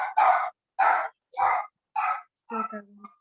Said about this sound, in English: is that the kind of barking that you're getting most of the time?